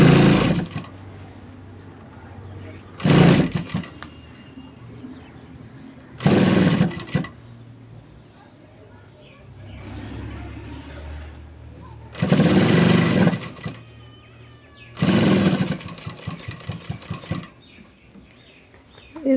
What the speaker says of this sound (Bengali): এবার এইখানে সেলাই চালিয়ে নেব।